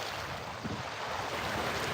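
Strong wind gusting at a river fishing spot on the Wisconsin River in early spring, a steady broadband roar with faint water wash beneath, continuous and fairly loud with no talking.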